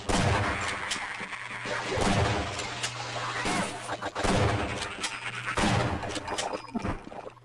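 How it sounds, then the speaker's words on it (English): SPAS-12 shotgun blasts in the game Half-Life, four loud booming shots spaced about every two seconds, each with a ringing tail, over a steady game hum. "Man, the shotgun's so effective in this game."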